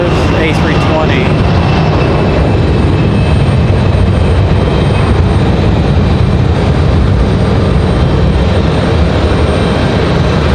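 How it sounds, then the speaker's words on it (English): A Delta Airbus A320 departs Raleigh Durham airport with a loud, continuous jet roar close by, a dense rumbling wash that holds steady throughout, with faint chatter beneath it. "So we'll pick up the Delta departure right here, A320."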